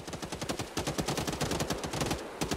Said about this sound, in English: How is he firing a pistol?